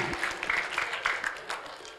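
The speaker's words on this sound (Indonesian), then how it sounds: "Tepuk tangan untuk Mas Wildan." Applause from an audience at a school Qur'an recitation exam and graduation ceremony, a steady patter of clapping hands lasting about two seconds, moderately close with no talking over it.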